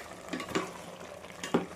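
Chicken biryani masala is stirred in a pan, giving soft, faint scraping strokes at an uneven pace over a low background hiss.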